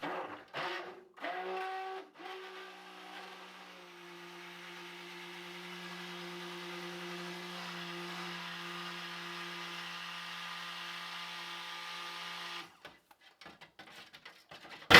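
Immersion blender whirring in lye solution and oils for eucalyptus mint shampoo bars, a steady motor hum running about nine seconds after a few short bursts, with handling clatter at start and end.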